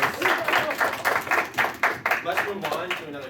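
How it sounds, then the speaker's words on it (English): Audience applause at an anime convention game show, a steady patter of many hands clapping for several seconds, fairly close and loud with voices mixed underneath. "Give Lee a round of applause, guys."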